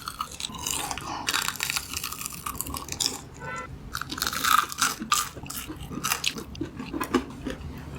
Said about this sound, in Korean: 소리를 한번 들어보시면 이게 얼마나 바삭한 튀김인지 알 수 있습니다